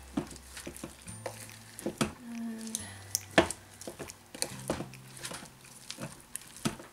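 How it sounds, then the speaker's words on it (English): A thick batch of melting soap scraps stirred in a bowl, giving irregular soft scrapes and wet knocks spread over several seconds, with some louder clanks, fairly close. "let's give it our first stir"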